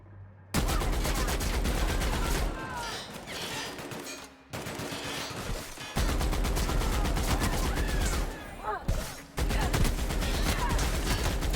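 Gunfire from a sci-fi shooter, The Outer Worlds, rattles in loud, dense bursts almost without a break, with short pauses and an occasional faint voice beneath the shooting.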